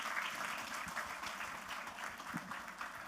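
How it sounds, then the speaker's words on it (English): A conference audience applauding panel speakers at a technology trends event, a continuous, fairly faint patter of many hands clapping throughout, with no speech over it. "A round of applause for them,"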